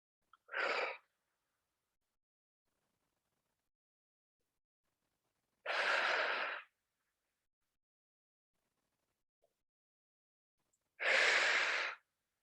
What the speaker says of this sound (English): So you hear me kind of adding a little bit of breathing there.